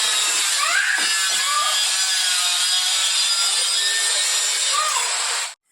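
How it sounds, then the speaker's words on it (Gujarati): Stone is cut close by with a power cutter, a steady, loud, high grinding whine that runs unbroken for several seconds and then stops abruptly. "પેલો પથ્થર કાપતા હતા એટલે અવાજ બહુ આવતો તો તમને સંભળાતું નહોતું."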